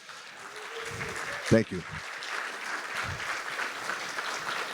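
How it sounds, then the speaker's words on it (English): Audience at a community wildfire education night applauds firefighters, a steady wash of clapping building and holding throughout, with a brief spoken thanks near the start. "So I think our firefighters should get a round of applause and thanks."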